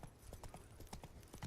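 Roach the horse's hooves clip-clopping in a video game, a brisk steady patter of close, moderately loud hoofbeats over a soft low background.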